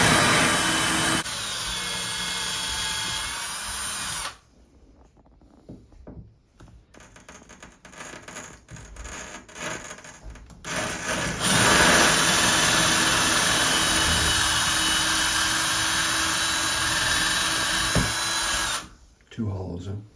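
A power drill enlarges a hole in shower wall tile to fit a hollow wall anchor. It whines loudly and steadily in two long runs, and between them come quieter stretches of low handling noise.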